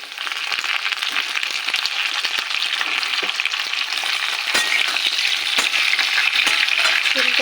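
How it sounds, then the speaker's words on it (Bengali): Flat beans frying in a pan with potatoes already browned, a steady dense sizzle throughout, loud and close, with occasional stirring scrapes and no talk. "শিমটাকে ভেজে নেব।"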